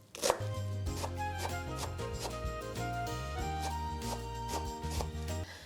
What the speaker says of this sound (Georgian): მწვანილი დავჭრათ წვრილად